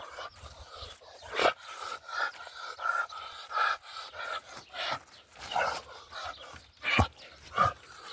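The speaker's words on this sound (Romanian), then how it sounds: "Ce câine mare, bă!" A big dog pants heavily and rhythmically close by, breaking into a few short barks and huffs among the breaths. No talk is heard.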